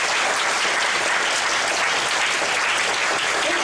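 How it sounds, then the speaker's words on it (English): A warm round of applause for the panelists at a campus gaming talk show, dense and loud continuous clapping from an audience that fills the whole stretch evenly without pause. "Ladies and gentlemen, please give our panelists a warm round of applause."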